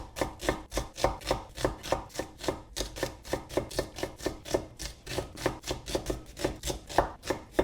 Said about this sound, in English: So yeah, I'm just gonna roughly chop this up.